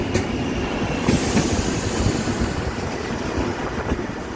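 A railway inspection car runs past on the line at Penukonda, a moderate steady rumble of rail wheels with faint clatter and a brief squeal near the start, no voices.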